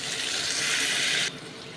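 Water pours in a short steady hissing stream into a pot of chickpea tamarind curry, close and moderately loud, stopping abruptly partway through.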